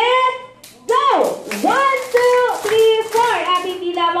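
Four sharp group claps ring out in unison at a child's fourth birthday party, evenly spaced and loud, mixed with excited children's voices and singing-like calls around them.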